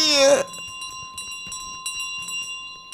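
A small bell in Untitled Goose Game rings with a sustained metallic tone that lingers while light clinks and soft rattles sound behind it, after a brief loud cry at the start.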